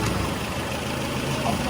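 A Morris Oxford car engine runs at a steady idle, a continuous low rumble close by, heard alone with no one talking.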